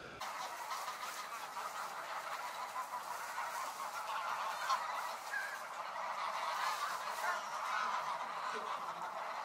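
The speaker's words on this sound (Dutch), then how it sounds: "om zo dicht op zo'n groep grauwe ganzen te zitten" A large flock of greylag geese, a few Egyptian geese among them, heard close up from a bird hide, keeping up a dense, continuous chorus of honking and cackling calls with no one speaking.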